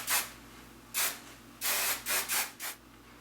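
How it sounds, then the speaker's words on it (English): Hairspray is sprayed onto styled hair in six short hissing bursts of varying length, close and fairly quiet, with no voices. "Finish with a little bit of hairspray to hold the style."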